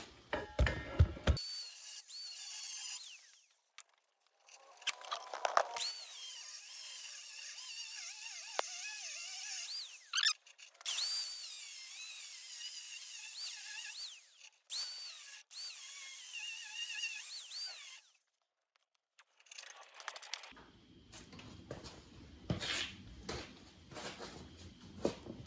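Power tool whirring in several separate bursts as bolts come off the frame of a 1995 Jeep Wrangler, with ratcheting and clanking between runs and near silence in the gaps.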